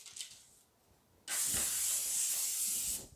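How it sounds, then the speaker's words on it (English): A quiet pause, then a steady close hiss of aerosol cooking spray lasting nearly two seconds before cutting off. "The spray will help kind of hold it."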